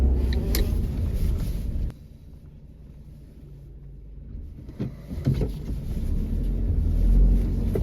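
A car drives through morning traffic, with a steady engine and road rumble heard from inside the cabin, fading to a quieter stretch partway through and then swelling again with a few light knocks.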